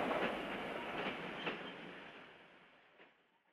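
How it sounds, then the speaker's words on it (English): A slow train runs along the rails with a steady rumble and soft clickety-clack, moving fairly near at first and then fading away into the distance. "On the slow train."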